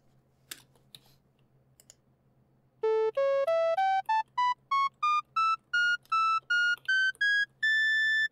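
Synthesized tones step upward through a just intonation scale with the septimal seventh toward a double octave, a run of about fifteen short, clean, evenly timed beeps whose pitch steps grow closer together near the top, heard alone.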